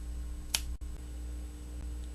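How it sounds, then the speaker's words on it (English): A single crisp finger snap, close and isolated, against a quiet background hum. "like snapping your fingers"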